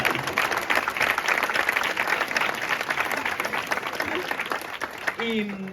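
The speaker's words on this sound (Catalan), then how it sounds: "un aplaudiment per l'Helena" Audience members at a book presentation give a brisk round of applause for a guest, steady clapping throughout, with a voice briefly emerging as it fades near the end.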